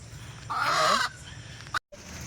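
A loud, harsh call from a desi chicken rises over a steady background hum, lasting about half a second, then a brief sharp sound before the hum resumes.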